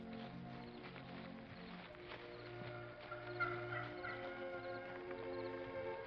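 A turkey gobbles repeatedly at moderate distance, rattling calls rising over a low background of other fowl, with no voices present.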